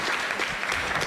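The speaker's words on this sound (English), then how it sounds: "Let's give them a round of applause." Short burst of audience applause at the Women's Economic Forum Kenya 2024, a steady wash of clapping from a crowd, fairly distant and even.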